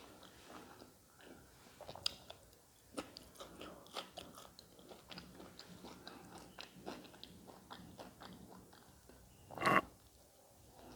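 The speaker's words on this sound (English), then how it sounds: "as you can see how she's munching on this food" Someone eats crunchy food in quiet surroundings, a soft run of irregular bites and chews with a sharper crunch near the end.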